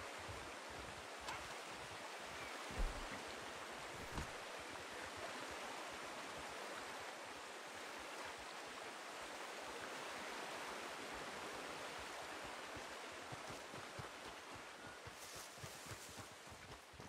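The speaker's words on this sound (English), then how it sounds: "But they can hear the water noise" Flowing water in the Western game Red Dead Redemption: a soft, continuous rushing stream with faint low rumbles, steady and fairly quiet, with no talking.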